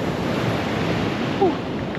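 Steady wash of sea waves rolling in close by at Tel Aviv Port, with wind noise blowing across the microphone throughout.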